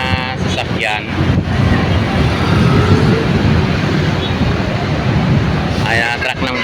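A garbage truck pulls away along a city street in Parañaque, its steady engine rumble and road noise filling the scene with wind buffeting the microphone, while someone talks briefly at the start and again near the end.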